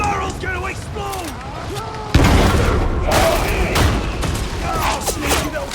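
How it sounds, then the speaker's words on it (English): An explosive barrel blows up in Darktide, the Warhammer 40,000 co-op shooter, partway through a busy fight: one heavy, sudden boom cuts through gunfire and shouted character voice lines, then the combat din carries on. "That barrel's gonna explode!"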